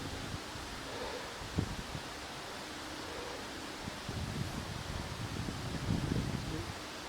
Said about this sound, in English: Let me stand this side, try and block some of the wind off.